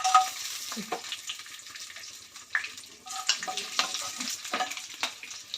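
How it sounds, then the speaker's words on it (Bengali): Whole spices—bay leaves, a split dried chilli, cardamom, clove and cinnamon—crackle in hot oil for a Bengali fish-head ghonto, a steady close sizzle with bursts of spatter and light stirring throughout. "তেজপাতা দুটো শুকনো লঙ্কা একটা ফাটিয়ে দিচ্ছি এলাচ লং দালচিনি"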